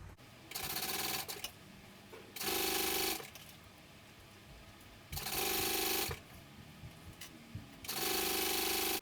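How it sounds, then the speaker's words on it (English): A sewing machine stitching a fabric sling a quarter inch from the edge, running in four loud, steady bursts of rapid needle chatter separated by short pauses, close and alone. "This is going to get sewn at 1/4 of an inch from each edge."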